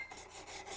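Hand file rasping against a gold ring, one close, continuous scraping pass with slight rhythmic pulses, quiet and isolated with no talking.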